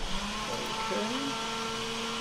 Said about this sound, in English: And I'm sure you can hear the blender in the background.